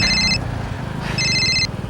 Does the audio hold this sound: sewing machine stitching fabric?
no